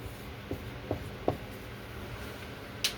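A maths example written out by hand, heard as faint, sparse scratches and soft taps of a writing tool at an irregular pace, with one brighter scratch near the end, close and quiet without talk.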